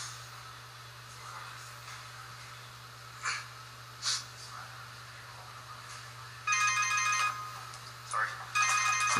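A phone ringtone comes in partway through, a steady melodic ring that repeats in bursts and sits fairly loud over a quiet background with faint breathing.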